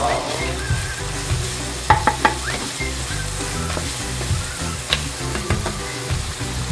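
Garlic and ginger sauté in a hot pan for a tilapia dish, a loud steady sizzle with occasional scraping stir strokes running throughout and no talking.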